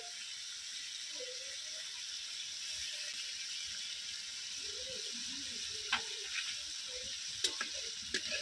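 Spice masala and tomato paste sautéing in a pan, a faint continuous sizzle with light stirring and a few sharp clicks of a utensil near the end, no voices.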